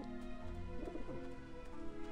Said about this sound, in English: So the pigeons peck through the breadcrumbs and pop the balloon and scare the shit out of themselves.